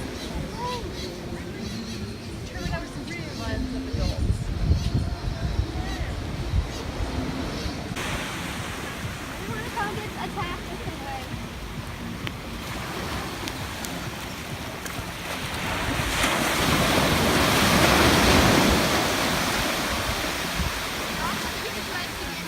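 Ocean waves washing onto a beach, a steady rushing surf that swells louder toward the end, with faint background voices now and then.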